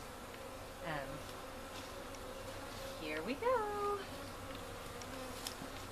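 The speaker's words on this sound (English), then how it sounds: "once I get the bees shaken down there" A steady low hum of many honeybees buzzing as they are shaken into a hive, with a brief spoken phrase and a short high-pitched vocal sound over the drone.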